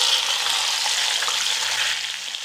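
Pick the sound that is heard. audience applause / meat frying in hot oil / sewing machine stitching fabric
meat frying in hot oil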